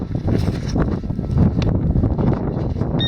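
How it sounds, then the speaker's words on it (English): Wind blows steadily outdoors in woods near a downed cedar tree, buffeting the microphone with a loud, continuous low rumble and gusty roar that keeps up throughout, with no speech. "The wind's out here."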